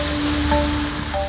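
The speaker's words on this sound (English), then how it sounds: "And the space is filled with water." Water rushing into the sealed gap between a boat-lift gondola and its basin, pushed in through hydraulic valves; a steady, loud broadband wash like surf, with faint tonal machinery hum underneath, continuous throughout.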